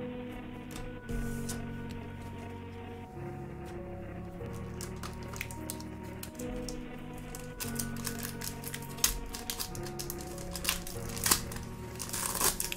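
Foil wrapping crinkles and tears, close up, with bursts of crackling and rustling as a Pokémon Eevee Heroes booster pack is opened by hand over a low steady hum.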